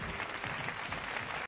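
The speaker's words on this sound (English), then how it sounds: "What are they clapping at?" Audience applause from a played clip of a music performance, dense and steady for about a second and a half before cutting off abruptly.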